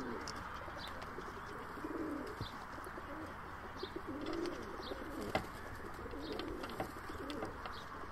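Pigeons coo softly in a loft, low rounded calls recurring a few times over a steady background hiss, with faint chirps and scattered small knocks.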